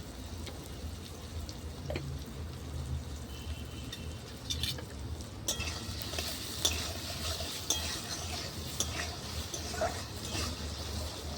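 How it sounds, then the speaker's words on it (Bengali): Potatoes fry in a covered pan over a clay stove, a soft steady sizzle and crackle with occasional light clicks of a utensil against the pan, fairly close and unbroken throughout. "আলুটা ঢাকা দিয়ে ভেজে নেবো একটু লাল করে"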